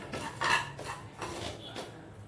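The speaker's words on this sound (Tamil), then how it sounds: "இனிமேல் அடுத்தது நம்ம இந்த கசகசாவையும் போய் வறுத்துருவோம்" Poppy seeds dry-roasting slowly in a pan, a spoon clinking and scraping against the metal in a few irregular strokes, fairly close and moderately quiet.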